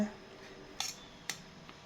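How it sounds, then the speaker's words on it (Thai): A knife cuts Thai eggplant into small pieces on a board, giving two quiet, sharp chops about half a second apart. "ตามด้วยมะเขือเปราะค่ะ หั่นเป็นชิ้นเล็กๆนะคะ"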